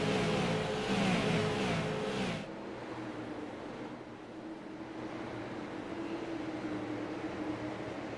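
Super late model race cars roar past at Stafford, a loud close engine rush for the first couple of seconds that cuts away to a quieter, steady drone of cars circling farther off.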